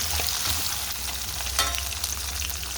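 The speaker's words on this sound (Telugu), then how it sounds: "ఇది కొంచెం ఫ్రై అవనిచ్చి తీసేద్దామండి" Fresh coconut pieces fry in a pan for a mint chutney, giving a dense, steady sizzle that stays close and loud throughout, with no voices.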